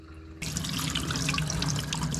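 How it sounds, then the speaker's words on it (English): After a brief quiet moment, a kitchen sink tap in an off-grid woodland cabin opens and water runs steadily into the sink, a close, continuous splashing stream. "Let's go see if the water's hot in the kitchen sink."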